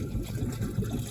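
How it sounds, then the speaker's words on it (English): Blowing into the fuel hose of a Miller Bobcat 225G engine welder stirs up a steady, low gurgling bubble in the old fuel inside, heard close and continuous for about a second with no talking. "if we just blow on that, you can hear the bubbling that goes on in there"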